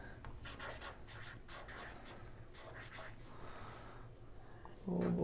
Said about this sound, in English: make sure I write this out correctly